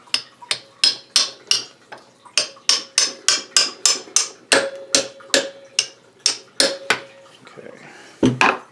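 A hammer taps a bolt into the transmission cover of a 1980 Suzuki FZ50 with about twenty sharp, closely spaced metallic strikes, some ringing briefly. The blows come in a steady rhythm and sound close.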